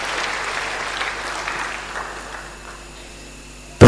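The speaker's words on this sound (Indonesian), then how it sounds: "Tepuk tangan yang paling meriah buat Tuhan." A church congregation bursts into lively applause for God, a dense steady clatter of clapping that gradually thins and fades toward the end.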